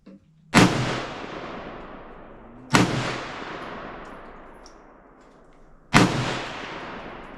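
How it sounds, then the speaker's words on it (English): Three loud AR-15 rifle shots at an outdoor shooting range, spaced a few seconds apart, each sharp crack trailing into a long echoing rumble with no talking. "we got our AR here, and we're gonna send some lead down the range"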